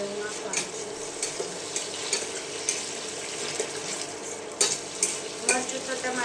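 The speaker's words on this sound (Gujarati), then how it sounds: "ત્યાં સુધી મિક્સ ન થાય સરખું ત્યાં સુધી હલાવવાનું છે." Pasta cooks in a pan as a spoon stirs it, with a steady sizzle under repeated scraping and clinking strokes against the pan, close by, with no one speaking.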